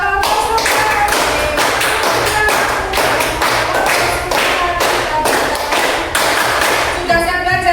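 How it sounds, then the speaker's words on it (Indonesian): Children clapping hands along to the song "Kalau kau suka hati" in a class, a steady run of loud close claps in rhythm that goes on with the music throughout. "Kalau kau suka hati tepuk tangan."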